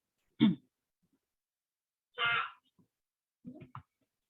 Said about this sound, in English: Excuse me, I have to clear my throat.